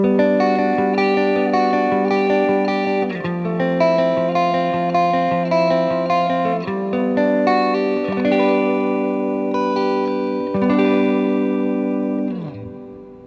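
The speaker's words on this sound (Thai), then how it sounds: "รีเวิร์บของ EBS กับ บอสดิจิตอลดีเลย์ดีดีแเนี่ยเนื้อเสียงดีมากนะฮะ" An electric guitar runs through an EBS Dynaverb reverb, a Boss DD-8 digital delay and some chorus, played live in front of the amp. Sustained, shimmering chords ring continuously with echo trails, loud and alone.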